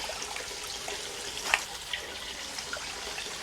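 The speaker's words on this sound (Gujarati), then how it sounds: "4-5 પાણીએ ધોઈ નાખવાનું એટલે બધો ડોળ છે ને નીકળી જાય" Sliced potato wafers being rinsed in water at home, a steady wet swishing and trickling wash with a couple of brief splashes, close and moderately quiet with no talk.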